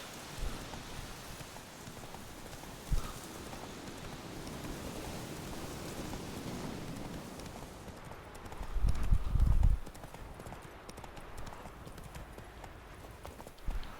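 Horse hooves in the Witcher 3 video game, clopping steadily over a constant bed of rain, with a louder thump of hoofbeats about two thirds of the way through, no voices.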